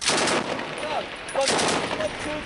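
Small arms gunfire in combat, loud close bursts of rapid automatic shots with a short gap between them, set in the north of Helmand with British soldiers under attack.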